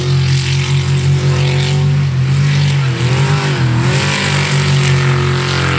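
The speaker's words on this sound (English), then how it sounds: "Our next boat out is 40K Dan Hetch." A racing boat's loud, steady engine drones close by with a sustained low hum, its pitch dipping and rising slightly midway, with no voices.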